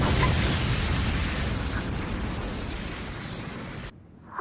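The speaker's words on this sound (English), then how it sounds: "an explosion happens." An explosion in an anime scene: a loud, roaring blast that rumbles heavily for about four seconds, then cuts off abruptly into near silence.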